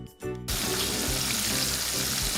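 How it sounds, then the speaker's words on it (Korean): Starch-coated mackerel fillet pieces deep-frying in 170-degree oil give a loud, steady crackling sizzle that bursts in after a brief quieter moment and continues without pause. "녹말가루 옷을 입혀 170도 기름에 노릇노릇 튀겨 준비"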